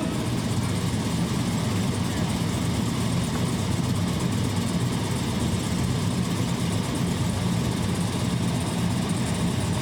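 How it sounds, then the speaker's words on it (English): Ontario Provincial Police motorcycles of the 2003 Golden Helmets precision riding team idle together in a V formation at an outdoor display, a steady low engine rumble running evenly throughout, fairly close, with no sharp revs. "The motorcycle teams led by the Ride Master form the traditional V formation."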